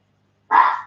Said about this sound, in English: And Chip's now telling him off. Can you hear him?